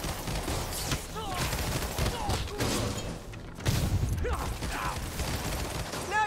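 Bursts of gunfire and mechanical clatter fill a Spider-Man video game fight against ghostly enemies, sharp repeated shots layered over continuous action noise, with voices talking throughout.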